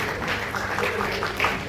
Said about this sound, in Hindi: जोरदार तालियां बजाकर उनका स्वागत करें।